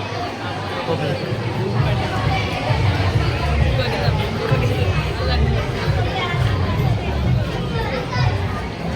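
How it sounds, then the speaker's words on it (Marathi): A busy water park crowd fills the air with dense, continuous chatter and children's voices, a steady loud babble with no single voice standing out. "फुल गर्दी आहे इकडे बघा"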